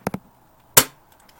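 Two quick faint clicks, then a single sharp, close shot from a revolver BB gun fired during target practice, followed by a few tiny ticks.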